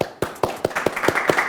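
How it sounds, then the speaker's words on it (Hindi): Audience clapping with a steady run of separate, fairly sharp claps about every fifth of a second, starting after a brief pause; only a few hands, close and moderately loud, with no talking. "तालियां हो जाएं भाई, तालियां कहाँ गई?"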